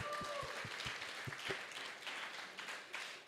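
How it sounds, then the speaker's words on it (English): Applause from a bar crowd at an astronomy talk night, several loud individual claps opening a busy patter of clapping that carries on at moderate level throughout. "give you guys a round of applause,"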